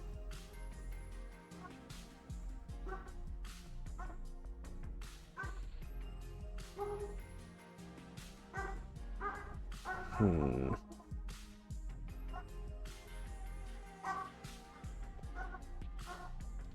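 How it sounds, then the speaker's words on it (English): A dog barks outside, a string of yips, woofs and whimpers repeating in an uneven rhythm over about sixteen seconds, heard from a moderate distance over steady background noise. "Now there's a dog outside."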